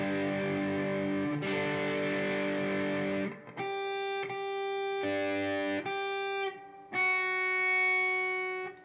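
Distorted electric guitar playing a song intro slowly, a few ringing chords followed by a series of separate picked notes in a slow uneven rhythm, loud and alone.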